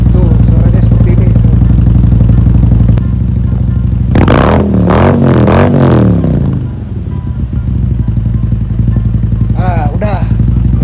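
An old Honda Vario 125 scooter engine idles steadily, then revs up in several strong bursts near the mic before settling back to a steady idle, ending with a couple more short blips.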